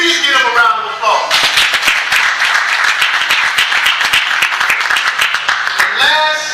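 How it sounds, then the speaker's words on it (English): An audience applauds steadily at a chaplain service gathering, dense clapping filling the room for several seconds, with brief voices at the start and end. "Please give them a round of applause."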